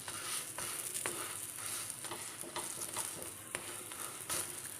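Gola ruti, a batter flatbread of flour and a little gram flour, fries in oil in a wok, giving a soft steady sizzle with intermittent light spatula scrapes and taps, fairly quiet and without speech.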